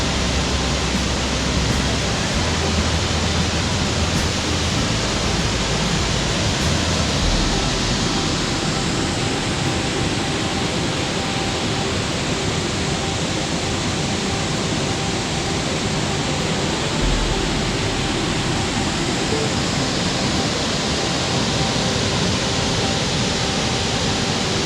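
Hooker Falls, a waterfall in DuPont State Forest in the Blue Ridge Mountains, pours with a steady, dense roar of rushing water that holds constant and close throughout.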